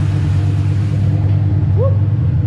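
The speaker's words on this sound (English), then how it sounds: "Spinning tire." A car tire spinning on a turbocharged car with its boost turned up, giving a loud, steady low rumbling drone with layered engine tones that holds evenly throughout.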